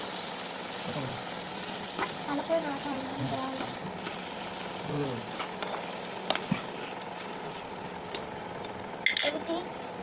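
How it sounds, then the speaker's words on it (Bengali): Meat is poured into a hot pan and stirred, giving a soft sizzle with scraping and clinking of a spoon against the pan. "মাংসগুলো ঢেলে দাও। বাবা, নাড়াও, সুন্দর করে নাড়ানাড়ি করো।"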